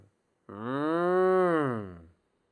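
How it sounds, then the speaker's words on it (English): A cow moos once: a single long, loud, close bellow lasting about a second and a half, alone against silence. "Very good, a cow."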